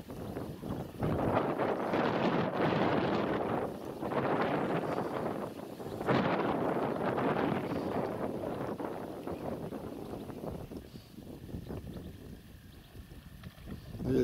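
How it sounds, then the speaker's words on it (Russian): Strong gusting wind buffeting the microphone in heavy roaring bursts on water while net fishing for crucian carp, easing toward the end, with faint water sounds. "Ветер сильный какой, разворачивает."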